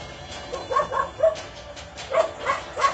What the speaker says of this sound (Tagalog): Ingay ng aso dito guys.